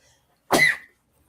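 One short, sharp cough bursts out close by and tails off within half a second, surrounded by near silence.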